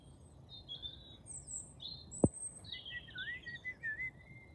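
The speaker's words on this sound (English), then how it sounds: "Can you hear Mr. B? Mr. Blackbird singing." Faint, distant blackbird song drifts through outdoor background hiss on an early-summer country walk, a few fluting phrases interrupted by one brief sharp knock.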